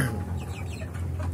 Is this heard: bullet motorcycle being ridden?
no